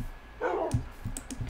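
Tamed dogs in Minecraft give one short, close bark, followed by a few light clicking taps in an otherwise quiet moment.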